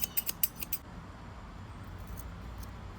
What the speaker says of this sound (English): I need fabric scissors.